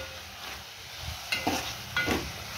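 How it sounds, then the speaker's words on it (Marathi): Prawn curry masala sizzling in a pan after red chilli powder and garam masala go in, with soft frying hiss and a couple of close stirring scrapes. "मसाला वगैरे टाकल्यानंतर आहे ना थोडा वेळ परतून घ्यायचं आहे।"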